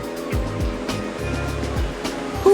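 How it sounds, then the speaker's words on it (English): A toy boat splashes and churns through water over a low motor drone, with a rushing surf-like wash and a brief louder burst at the end. "hit the water in this stylish new boat"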